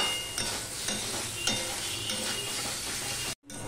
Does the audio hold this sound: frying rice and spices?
yes